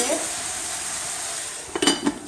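A spoon stirs spinach filling in a hot pan over a steady sizzle, giving a few scraping, clinking strokes toward the end, close and clear, with no talk.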